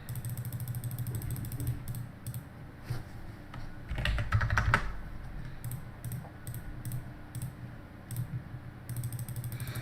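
Rapid, clattering keystrokes on a computer keyboard run throughout, close and fairly loud over a low background hum, with brief pauses and a heavier burst of clicks midway.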